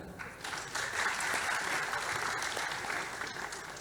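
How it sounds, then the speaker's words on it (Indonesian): Audience applause at a Javanese-language community gathering, a steady wash of many hands clapping at moderate level throughout, holding even from start to finish with no talk over it. "Tepuk tangan, Rek."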